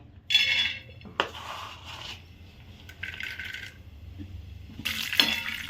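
Peanuts tipped into hot oil in a pan for roasting, giving a few short rattling, clattering bursts of nuts hitting metal with soft sizzle between, close and alone.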